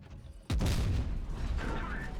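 A tank's main gun fires once in World of Tanks Blitz from a Ho-Ri, a sudden loud boom followed by a rumbling decay and a faint mechanical tail.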